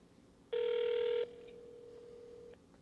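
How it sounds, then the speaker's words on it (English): A telephone in Monkey Island 2: LeChuck's Revenge sounds a loud, steady electronic tone that drops to a quieter sustained tone before cutting off, heard alone and close. "Hold on, I gotta make a quick phone call."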